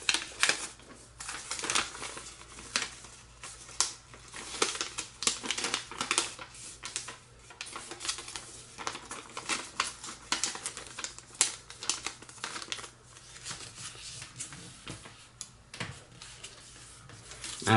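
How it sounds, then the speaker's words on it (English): Origami paper is creased and folded by hand into an outside reverse fold, giving close, irregular crinkles, crisp taps and rustles in quick bursts with short pauses, and no one speaking. "outside reverse fold would be to fold the paper outwards"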